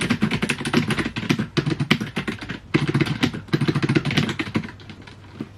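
A Reddit reply being typed on a computer keyboard: a close, loud, rapid clatter of keys running in long bursts with brief pauses and no voices.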